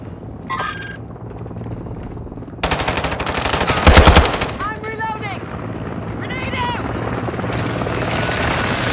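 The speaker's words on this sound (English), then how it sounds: "Friendly Overwatch helo in the area." An overwatch helicopter hovers in a Call of Duty Modern Warfare II multiplayer team deathmatch: a steady rotor roar joins a burst of rapid gunfire around the middle, amid radio-style game chatter and beeping alerts.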